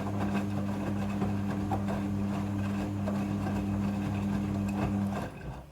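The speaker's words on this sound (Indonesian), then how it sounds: "Mesin cuci front loading sudah full automatic dalam mencuci." Midea front-loading washing machine running a wash cycle, giving off a steady low mechanical hum with soft churning and sloshing throughout before it quiets at the end.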